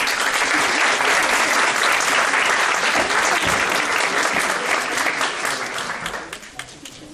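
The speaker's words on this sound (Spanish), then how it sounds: "Demos un fuerte aplauso" Strong audience applause welcoming a lecturer at a psychology faculty in Cuernavaca, Mexico: a loud, dense wash of clapping holds steady, then thins out and fades over the final seconds.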